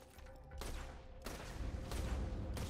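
Several loud gunshots from a weapon in Borderlands 2, fired at about half-second spacing, each a sharp broadband crack with a short tail, over a steady background of game noise.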